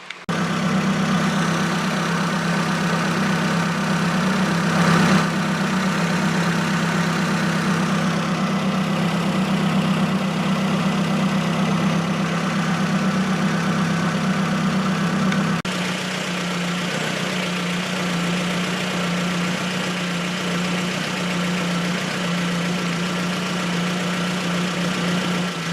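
A Ford Focus MK1 RS engine idles after a cold start with a steady, close, humming drone, and the idle note drops to a lower, calmer pitch partway through.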